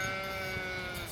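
A ewe bleats close by, calling near her suckling lamb in a sheep pen; the bleat is a steady, sustained, voiced cry that carries over faint background noise.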